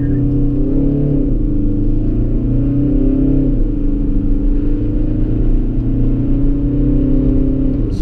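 Opel Insignia with a 170 hp 2.0 diesel engine and six-speed automatic gearbox accelerating, a loud, steady engine drone rising in pitch, dipping briefly at a gear change, then climbing again.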